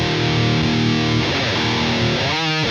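Heavily overdriven electric guitar through an ENGL Fireball 100 lead channel boosted by a JHS tube screamer, a dense sustained distorted chord that fades into a short picked phrase at the end, loud and alone.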